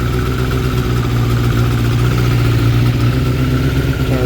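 A 2006 Suzuki GSX 600F Katana with a carburetor fault idles steadily in a low, even motorcycle drone that sags slightly as the revs slowly drop, close and loud with no talking.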